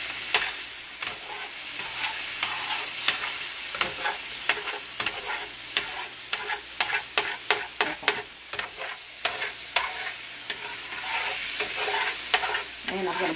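Chicken pieces being stirred around in hot oil in a pan, a steady close sizzle broken by a long run of sharp scraping, clacking strokes against the pan bottom, with no voices.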